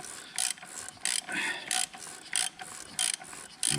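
A ratchet tightens the filter cap on a diesel fuel filter to 25 newton metres, giving about six short, close bursts of rapid clicking with brief pauses between strokes.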